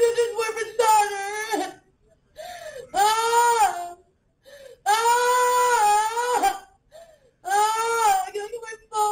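A person cries and sobs after an arrest, with loud wailing bursts separated by short gasping pauses, rising and falling in pitch close to the microphone.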